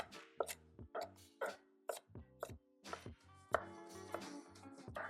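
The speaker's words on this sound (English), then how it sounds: "Let's just chop these up some more." Chili peppers are chopped with a knife on a board, a close, crisp series of uneven taps coming in quick bursts.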